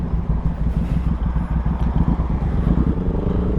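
Suzuki Boulevard M109R motorcycle engine, a loud, close, throbbing low rumble with a steady pulsing beat, running alone.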